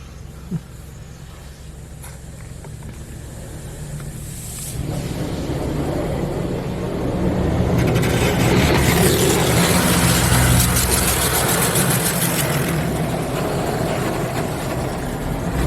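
A Precision Auto Wash Pro Navigator automatic car wash runs with a loud, steady roar and hiss of spraying water and machinery, swelling and thickening partway through, some nozzles not spinning properly.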